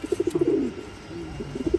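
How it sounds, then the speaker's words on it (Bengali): A female racing pigeon in a loft gives a close, rhythmic run of soft coos that swells into a longer throaty call, followed by more coos. "এখানে দেখতে পাচ্ছেন একটা মাদি কবুতর"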